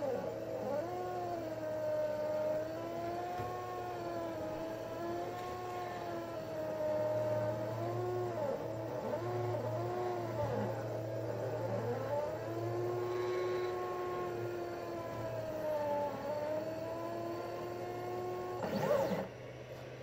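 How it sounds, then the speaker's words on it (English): Small homemade laser cutter working a drink coaster, its motors whining in sweeping rising and falling tones over a steady hum, with a brief louder clatter near the end. "You can see the basic speed of the cutting while the laser is running."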